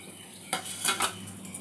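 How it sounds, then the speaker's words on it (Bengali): Bay leaves, dried red chilies, a pinch of hing and cardamom pods dropping into hot oil for tempering, with a faint clink of utensil on pan followed by a soft, brief sizzle burst up close. "এগুলো তেলের সাথে যোগ করে দেব।"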